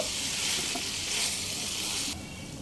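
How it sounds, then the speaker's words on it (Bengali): Potato curry sautés in a pan over a medium flame, a steady close sizzle with soft stirring scrapes that drops slightly quieter near the end. "মিডিয়াম ফ্লেমে আরও দুই মিনিট এভাবে কষিয়ে নেব"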